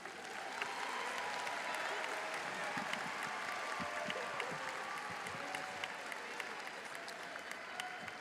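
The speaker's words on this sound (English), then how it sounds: "Please give our Pattonville High School choir another round of applause." Audience applause for a high school choir at a graduation ceremony, a steady, dense clapping that fills the whole stretch at an even level with some crowd noise mixed in.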